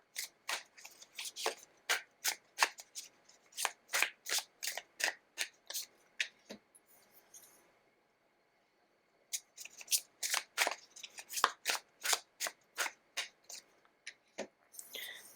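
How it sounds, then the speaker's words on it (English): Tarot cards being shuffled in rapid, crisp riffling bursts, with a brief pause midway before the shuffling resumes, close and clear with no talk. "I'm going to shuffle your remaining cards"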